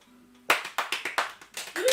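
Sparse clapping from a few people before a piano recital during a livestream. The claps are close and sharp, about eight to ten of them in quick irregular succession, after a soft hum.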